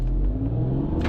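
Alfa Romeo Giulia Quadrifoglio on a track, its engine giving a brief, loud, close rumbling rev with no talking.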